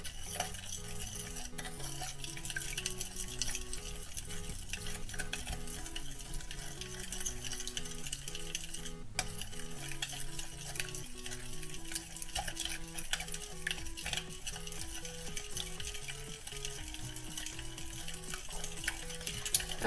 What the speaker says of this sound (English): then you're going to mix it all up. Make sure you mix it really well.